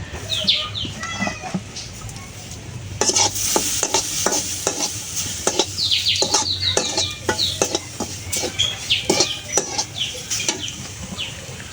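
Semolina and grated coconut are stirred in a pan. A spoon scrapes the pan in a quick, steady rhythm of sharp strokes over a faint sizzle, with occasional bird chirps in the background.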